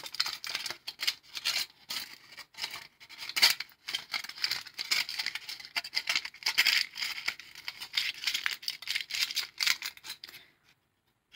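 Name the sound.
aluminium foil being pushed and compressed by hand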